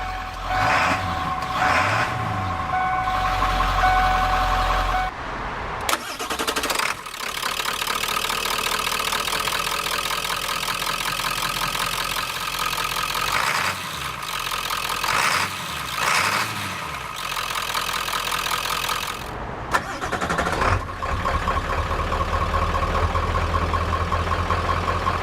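A 1994 Ford F-150 XLT with the 7.3 diesel idles steadily up close, a loud continuous low rumble with a few brief shifts in tone along the way and no talking.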